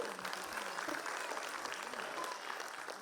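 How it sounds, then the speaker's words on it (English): Audience at a school annual function claps for teachers and staff, a continuous, fairly faint wash of crowd applause with no pause. "So give a big round of applause to the teachers and the staff today."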